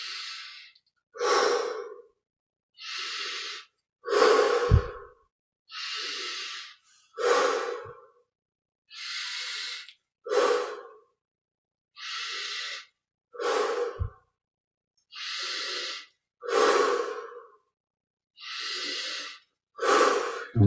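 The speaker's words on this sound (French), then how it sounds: "prendre 20 respirations profondes" Slow, deep yoga breaths, each long inhale and exhale separated by short silences, close and clearly audible with no talk, repeating steadily about a dozen times.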